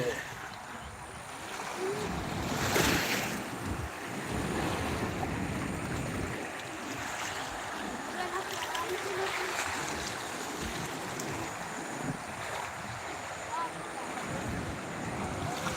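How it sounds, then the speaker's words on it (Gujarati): Floodwater of the swollen Machchhu river rushing past at Morbi, a steady broad roar of flowing water with wind buffeting the microphone, heard outdoors and continuous throughout while a person talks over it. "મોરબી મચ્છો નદી બે હાલે"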